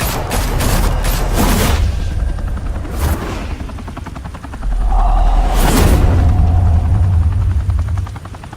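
Gunfire in the Batman: Realm of Shadows video game comes as bursts of rapid shots and sharp booms against the steady thrum of a helicopter. Volleys open the scene, then louder blasts and rotor noise build toward the end.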